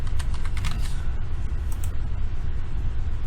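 Rapid, close clicking of keys on a computer keyboard over a constant low rumble, with steady keystrokes throughout.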